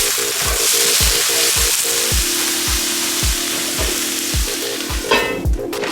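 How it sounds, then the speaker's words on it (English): Frozen green beans and cauliflower rice fry steadily in a pan, a continuous loud sizzle with repeated stirring scrapes roughly every half second, no talking. "I've got to get the veggies going because the green beans are actually frozen and so is the cauliflower rice"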